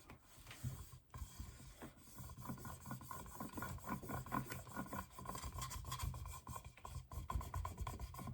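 Continuous close rubbing and scraping as vinyl decal is smoothed onto a Thermo-Flask, a steady rasping texture with no pauses.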